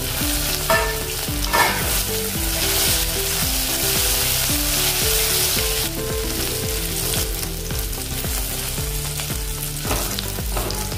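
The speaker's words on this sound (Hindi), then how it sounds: "अभी मिक्स करने के बाद थोड़ी देर हमने इसको भून लिया है" Loud, constant sizzling as chopped radish and radish leaves fry with asafoetida and garlic cloves in hot oil, stirred continuously with soft scraping strokes throughout.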